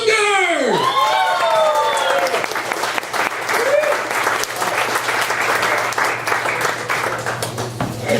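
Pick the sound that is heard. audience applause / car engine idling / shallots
audience applause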